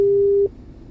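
A telephone busy signal sounds as one steady tone that cuts off about halfway through, leaving faint line noise behind it.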